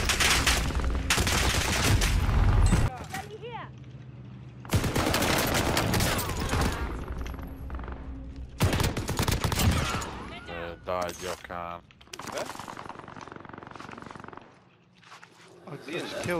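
Bursts of automatic rifle and machine-gun fire in a military shooter rattle in loud, dense volleys separated by short pauses, with voices talking in between.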